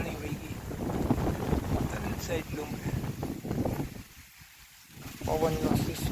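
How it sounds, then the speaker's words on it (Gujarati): Wind gusts buffet the microphone outdoors on a village farm field, a rough rushing roar with a short lull before it surges back, mixed with rustling. "પવનનો સુસવાટા બોલતા છે."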